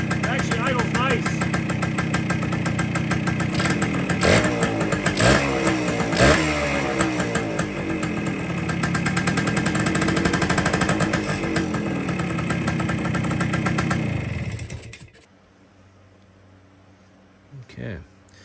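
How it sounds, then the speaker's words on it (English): A crusty 1973 Kawasaki 175 motorcycle, left sitting since the mid-1980s and now with an air leak, idles steadily and loudly up close for about fifteen seconds, then cuts out to near silence apart from a faint clunk. "It actually idles nice."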